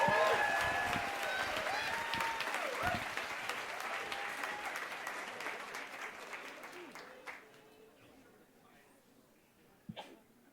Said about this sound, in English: Big round of applause now for Jeff Rose as he comes on up